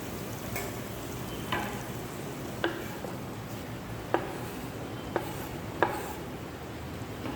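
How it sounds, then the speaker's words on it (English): Spices cook with onions in a pan, a soft, continuous sizzle with a few sharp clicks and scrapes of a utensil stirring at intervals, fairly quiet and close, no talking. "just mix the spices through with the onions. Let the spices cook a little bit"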